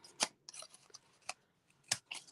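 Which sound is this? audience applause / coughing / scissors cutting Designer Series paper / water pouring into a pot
scissors cutting Designer Series paper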